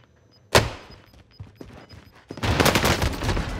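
Gunfire from an M1916 rifle in the shooter game Warzone: a sharp shot lands near the start, followed by scattered quieter thuds and then a dense, loud burst of sustained firing to the end.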